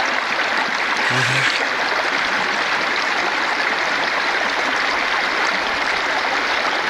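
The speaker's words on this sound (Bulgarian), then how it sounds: "Водата е по-слаба." Stream water flows steadily through a channel in a loud, continuous broadband rush, with no pauses and a brief low thump near the start.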